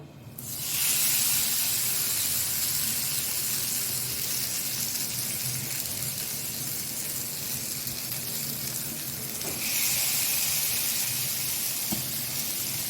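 Bhola fish fillets sizzle in a hot frying pan, a loud, steady, close hiss that starts suddenly and keeps going with a brief surge partway through, and nobody talks.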